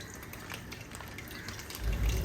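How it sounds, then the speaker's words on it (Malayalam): Milk from two packets poured into hot caramelised beaten rice, a steady liquid gush that swells louder near the end. "ഇനി നമുക്കിതിലേക്ക് ഒരു 2 പാക്കറ്റ് പാൽ ഒഴിച്ച് കൊടുക്കാം"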